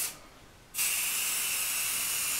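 A steady airbrush hiss, spraying color onto the base of a cake on a turntable, starts abruptly after a quiet moment and continues evenly at close range.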